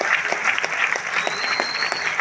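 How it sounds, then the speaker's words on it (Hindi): Audience applause fills a hall during a live stage program, steady dense clapping throughout with a faint whistle cutting in near the end. "आपकी जोरदार तालियों के साथ मैं आपका स्वागत करता हूँ"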